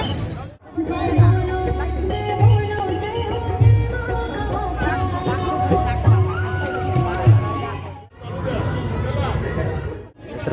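A dense crowd at a temple in Nashik during the Ganpati festival, with a continuous babble of many voices and movement close around, and a voice talking over it.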